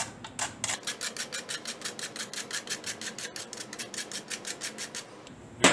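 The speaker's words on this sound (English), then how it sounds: "we will grate the nutmeg." A whole nutmeg is grated by hand in a cooking practical, producing a steady run of about two dozen rhythmic, raspy scraping strokes close up, with no talk.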